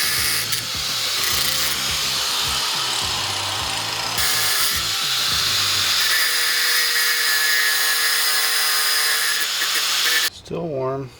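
A power tool cutting through a metal bolt, a loud continuous high-pitched whine and grinding that changes pitch as the blade bites, then stops abruptly, with a voice briefly heard at the end.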